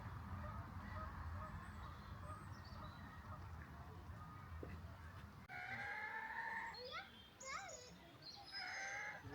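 Swan geese honk in a burst of loud, nasal calls after a stretch of low background rumble, several birds calling in quick succession nearby at Martin Mere.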